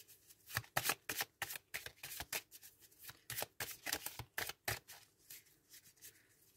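Oracle cards are shuffled for a tarot reading, a quick series of crisp riffling and flicking bursts, close and fairly quiet, with brief pauses between.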